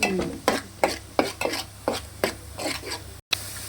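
Coconut paste frying in a pan for a prawn curry, with about nine or ten distinct scraping stir strokes in a steady rhythm over a low sizzle, close by.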